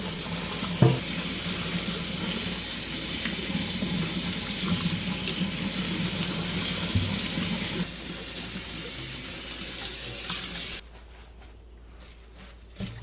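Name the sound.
washing kale under running water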